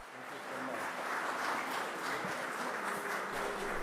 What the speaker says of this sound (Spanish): Inmediatamente el aplauso